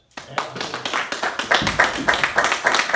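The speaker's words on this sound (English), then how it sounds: "I think the town owes her a round of applause." Applause at a Brentwood, New Hampshire selectmen's meeting honouring Karen: uneven hand claps from a small group, starting after a brief silence and building into a steady patter that continues to the end.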